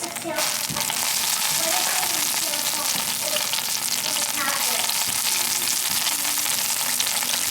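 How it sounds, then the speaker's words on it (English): Rump roast searing in a hot Dutch oven after salting, with loud, steady sizzling and frying crackle and scattered sharp pops from the salt, sustained throughout. "Was it salt popping? Oh wow. That's aggressive."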